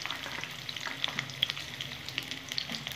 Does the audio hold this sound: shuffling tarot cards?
no